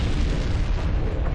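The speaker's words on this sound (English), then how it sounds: "the massive explosion and the violent shockwaves sent rippling up the hillside and across the city." A massive factory explosion, heard as a loud, sustained roaring blast of dense low rumble and broadband noise with no distinct onset, filling the whole moment with no voices.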